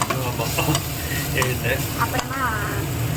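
Cooked carrots with cinnamon and cloves are stirred in a pan, a loud steady sizzle with spatula scrapes and tosses close by while a voice talks over the top.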